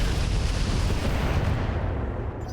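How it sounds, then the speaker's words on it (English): Mech weapons firing in the BattleTech-based game RogueTech: dense, loud booming blasts merging into a continuous explosive roar that tapers slightly near the end, with no talking over it. "Scorpion firing on the trooper there and actually killing it"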